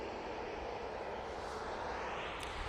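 A Eurowings jet departing Manchester Airport, heard as a steady, wide engine roar at moderate distance with no talk over it.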